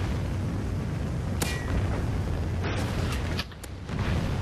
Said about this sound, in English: Incoming Trinity rocket inbound.